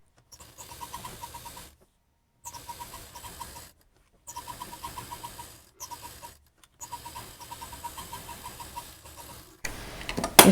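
A sewing machine stitches the sides of a pocket on an office bag, running in several bursts of steady fast whirring and ticking separated by short silences, close and moderately loud, with a louder clatter at the end.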